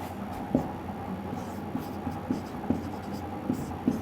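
Pen writing on paper during a math solution, a soft continuous scratching with occasional sharper taps, close and quiet over low background hum.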